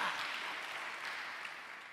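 Dense, steady applause from a church congregation, sustained evenly throughout with no pauses or voices standing out.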